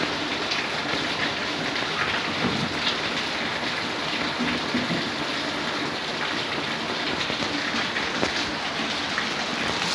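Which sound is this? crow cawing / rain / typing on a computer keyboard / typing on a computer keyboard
rain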